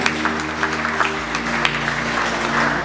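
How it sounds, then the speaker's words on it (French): A church congregation applauds steadily for a few seconds, a dense patter of clapping with faint cheering, set against a sustained organ or keyboard tone. "Acclamons Jésus."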